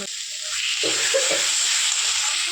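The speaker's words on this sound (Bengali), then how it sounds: "মশলাটা কষানো হয়ে গেছে। তেল থেকে দিয়েছি মশলাটা দিয়ে।" Spice paste sizzles steadily in hot oil in a pan, a loud, continuous crackling hiss close up, with brief faint clinks from stirring.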